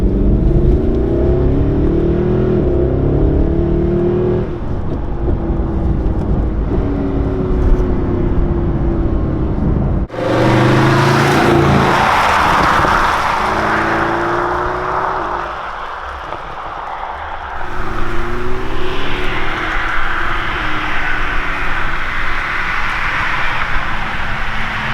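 A Mercedes SLS AMG engine rumbles loudly while driving, rising into a sharp, roaring rev partway through, then settling and surging again, heard up close from inside the car.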